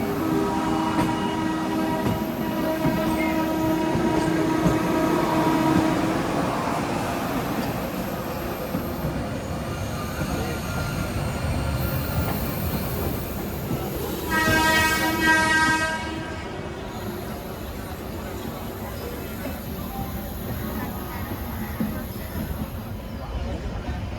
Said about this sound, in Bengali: এটা প্রথম ট্রেন আজকে গঙ্গাদেবতা এক্সপ্রেস, আপনারা সবাই জানেন।